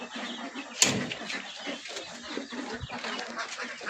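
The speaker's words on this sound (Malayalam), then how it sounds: "ഫാം ആൻഡ് നഴ്സറിയിൽ കിടക്കുന്ന കോഴികളാണ്." Native chickens at a farm and nursery clucking in short, scattered calls over a busy background of farmyard noise, with one brief sharp sound near the start; no talking.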